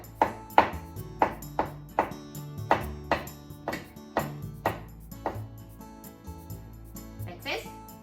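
A knife slices shiitake mushrooms on a cutting board in a series of crisp, evenly spaced chops, close and fairly loud, with music playing underneath.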